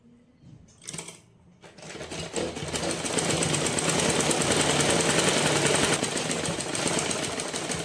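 A sewing machine stitches the neck portion of a garment. A few short clicks and a brief burst give way to a loud, continuous, rapid mechanical chatter close by.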